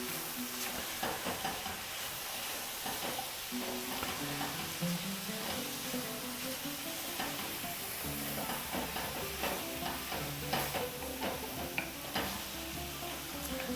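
Biryani in a pan with spice powder being stirred in, a low steady sizzle and hiss with scraping, clinking stirring strokes throughout, fairly quiet and close, with no speech.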